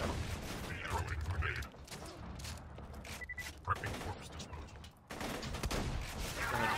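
Sniper rifle fire in the video game Borderlands 2: a burst of loud, dense gunfire over busy game noise and a low rumble, with a sharp report near the middle and another loud stretch toward the end.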